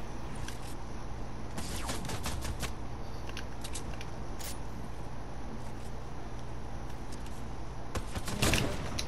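Gunshots in an online shooter video game, a few sharp sporadic cracks over a constant low game background hum, with one slightly heavier burst near the end.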